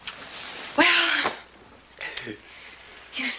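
One sharp sneeze bursts out loudly at close range, followed by softer breathy sounds and voices in a quiet room.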